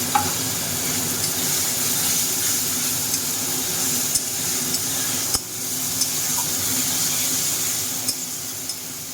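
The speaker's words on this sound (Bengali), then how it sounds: "এই পেস্টটা দিয়ে দিচ্ছি" A paste of ginger, green chili, coriander and white cumin fries in a pan for an aloo soyabean curry, giving an even, hissing sizzle with faint utensil scrapes and one sharp knock, close and sustained, no voices.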